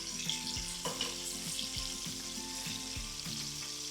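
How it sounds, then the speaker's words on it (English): Shrimp sizzle steadily while frying in a pan for pineapple fried rice, with a constant crackle and several soft knocks or stirs at uneven intervals. "So you have to fry, I think 3 minutes on both sides"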